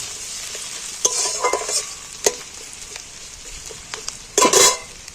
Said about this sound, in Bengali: তেল গরম হয়ে গেছে, পেঁয়াজগুলো তুলে দিচ্ছি। দেখো কুচানো পেঁয়াজগুলো দিয়ে দিই। কুচানো পেঁয়াজগুলোকে আমি একটু ভালো করে ভেজে নেব।